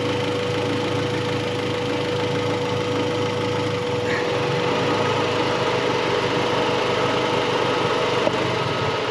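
A Honda Civic fitted with a swapped G23 VTEC engine idles steadily throughout, a constant close mechanical drone with a faint whine and no talking.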